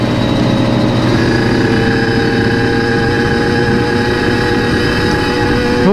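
A motorcycle engine runs hard at speed on a city street, a loud, steady droning roar with a constant tone and no clear revving rises, holding at the same level throughout.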